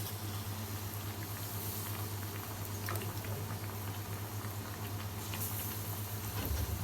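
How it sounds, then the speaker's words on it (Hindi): Pakoras frying in a kadhai of hot oil at a hotel kitchen, a quiet continuous bubbling sizzle with light crackles, steady throughout. "डालिए तेनालीराम जी, बचे हुए पकोड़ों का नंबर आ गया है। कढ़ाई और पकोड़े दोनों एक दूसरे की प्रतीक्षा में"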